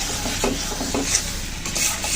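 Fried bottle gourd being scooped out of a wok, a steady low sizzle under soft scraping and stirring scrapes of a spatula against the pan, close and continuous for a couple of seconds.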